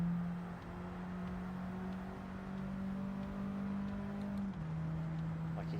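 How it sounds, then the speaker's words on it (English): Turbocharged car engine in the racing game Gran Turismo 7, a steady loud drone holding one pitch with a faint high turbo whistle, dipping briefly near the end as the gear shifts. "You can hear the whistle of the turbo straight away"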